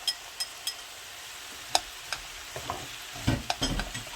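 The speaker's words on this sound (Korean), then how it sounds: "이렇게 살살살살 망가닥 버섯도 넣어줄게요" Shiitake mushrooms and onion stir-fried in cooking oil for japchae sizzle softly in a pan, with scattered light taps and scrapes of a utensil and a louder stirring rustle near the end.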